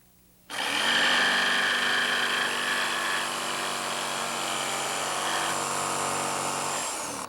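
A power saw cuts through fiberglass for a boat fish box, starting abruptly and holding a loud, steady high whine with a slight drop in pitch midway before stopping near the end.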